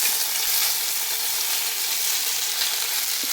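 Curry leaves sizzling in hot oil with fenugreek seeds for a Kerala fish curry, a loud, dense, hissing crackle that runs steady and close with no voices.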